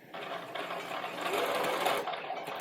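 A sewing machine basting a seam on a costume runs in one steady, continuous burst, fairly close and loud, with no talking over it.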